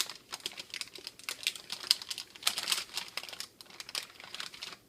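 Parchment paper crinkling and crackling as it is bent to lift freshly baked macarons off a silicone macaron mold, a steady run of close, dry crinkles and taps with no talk.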